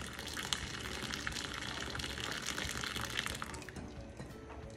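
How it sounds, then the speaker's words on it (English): Canning jars rattle and knock in a pot of boiling water while making muscadine jelly, a steady loud bubbling and churning wash with scattered clinks, no voices. "it's just the jars boiling in the water."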